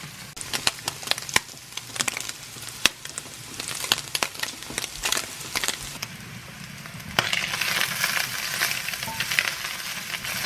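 Spam fries in a cast iron pan with a busy crackling sizzle and sharp spitting pops, growing into a louder, fuller hiss near the end, with no one speaking.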